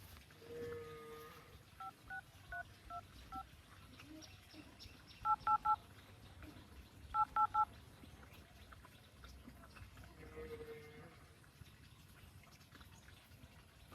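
Several short bursts of telephone keypad dialing tones, sounding in groups of beeps at a steady pace over a faint background with some low talk.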